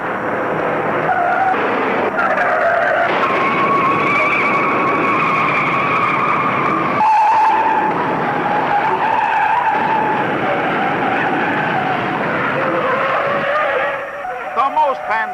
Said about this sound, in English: The most fantastic pileup in auto racing history takes 37 cars out of the race.